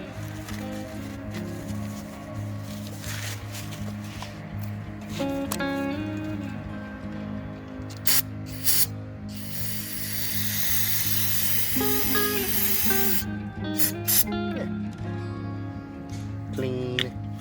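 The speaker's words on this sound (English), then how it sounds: "we'll take the carb cleaner and clean this guy off too" Carb cleaner sprayed onto the oil filter screen of a Roketa 150cc Chinese scooter, heard as loud hissing aerosol bursts with rattling and clinking of parts nearby, over a steady background hum.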